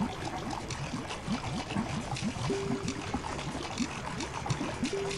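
Water sound effect in the Creature Garden iPad app for kids, a soft, busy trickling and splashing with short bubbly blips, moderately quiet and continuous.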